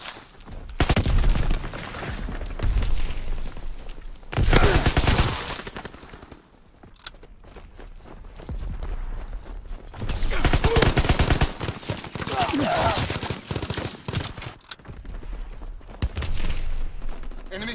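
Enemy aircraft strafe the ground in Call of Duty WWII, bursts of rapid gunfire and loud impacts coming in waves with short quieter gaps, under occasional radio-style voice callouts.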